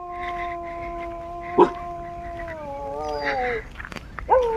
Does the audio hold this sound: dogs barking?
yes